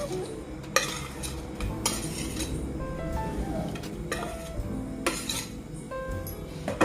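Tempering being mixed into curd for a brinjal dahi curry in a pan, with a spoon clinking and scraping against the metal in irregular strokes, close and clear.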